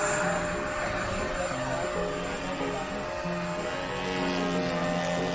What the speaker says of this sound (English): That roaring jet sound in the background is Jim Simo launching his AVF F86.